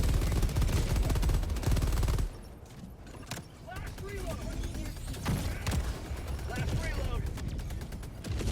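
Automated sentry turrets fire in Helldivers 2 during a battle against the Illuminate, with dense rapid bursts at first that drop to scattered shots and mechanical clatter, and a voice talks over parts of it.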